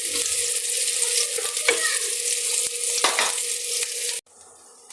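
Garlic and onion frying in a pan, a loud, steady close sizzle with occasional stirring scrapes, which cuts out abruptly near the end and leaves a quieter hiss.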